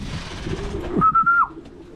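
A racing pigeon call rings out once, a steady sustained tone about half a second long, heard close over low background rustling and noise.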